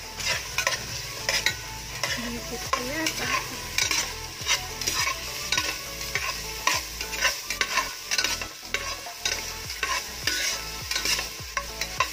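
Chicken frying and being stirred in a pot, with steady sizzling and repeated scraping strokes of a utensil against the pot throughout, close and fairly loud with no talk.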